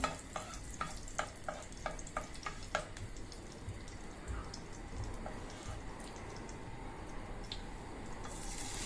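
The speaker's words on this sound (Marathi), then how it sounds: "चांगला तुपात आपण परतून घेणार आहे" Grated potato and sweet potato stir-fry in ghee in a pan, with a run of sharp spatula scrapes and taps at the start, then a steady close sizzle.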